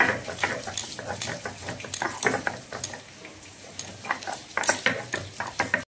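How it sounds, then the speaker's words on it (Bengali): Ginger and garlic being ground into paste, probably on a stone, with a steady run of scraping, knocking strokes close by. Faint kitchen clatter and a voice sit in the background. "আদা রসুনটা বেটে নেওয়া হচ্ছে।"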